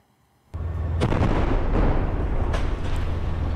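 A heavy artillery blast in Khan Younis, Gaza, erupts suddenly out of near silence and rolls on as a long, deep, sustained rumble, with a second fainter thump partway through.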